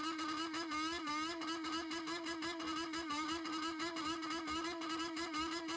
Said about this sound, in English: It's the noise caused by a group of boys recklessly riding modified motorcycles.